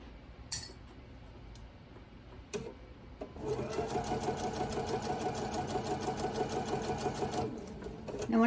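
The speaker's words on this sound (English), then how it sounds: "I'm going to sew down to my clip" A sewing machine stitches a quilt seam in a steady rapid run of needle clatter lasting about four seconds, preceded by a few faint clicks and handling noises nearby.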